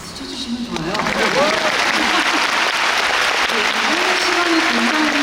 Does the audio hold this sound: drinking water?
no